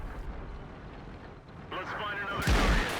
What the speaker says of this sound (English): that is one artillery hit that was well aimed